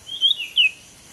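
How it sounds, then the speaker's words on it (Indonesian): A bird chirps twice in quick succession, two short, bright, high calls close together, then quiet, with no talking. "Ada burungnya."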